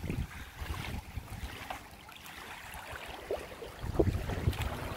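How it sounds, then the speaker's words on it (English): Wind and small whitecap waves on a freshwater lake, heard from a kayak: gusty low rumbling wind noise with irregular sloshing and lapping of water, fairly close and uneven, no speech. "It's windy today, so it's a little... We got mini white caps on here."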